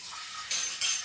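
Dishes and cutlery being cleared and put away at home, with two bright clinking bursts of metal utensils and plates over a faint scraping background, fairly close and brief.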